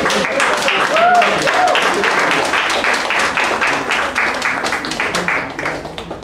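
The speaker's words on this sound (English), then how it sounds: "Once again, a big round of applause." Audience applause at a public speaking club meeting, a steady mass of clapping from a roomful of people that swells early and gradually fades, with some voices mixed in.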